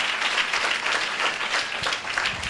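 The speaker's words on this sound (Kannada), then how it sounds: "ಚಪ್ಪಾಳೆ ಹೊಡಿಬೇಕು" Audience clapping at a church fasting and prayer gathering, a steady dense burst of many hands applauding together, close and continuous for a couple of seconds with no talk.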